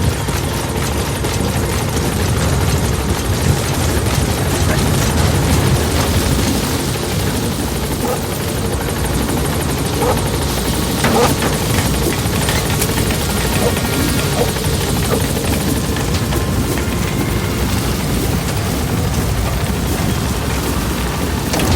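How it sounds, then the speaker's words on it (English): Continuous loud support helicopter rotor drone from the video game Metal Gear Solid V: The Phantom Pain, with a thick, rumbling wash, holding steady throughout as if hovering nearby. "Support helicopter has arrived."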